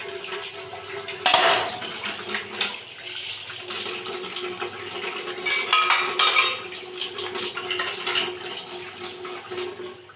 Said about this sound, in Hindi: अब मुझे ये 2 चूल्हे में बर्तन को धुलना है, ये मेरा काम है।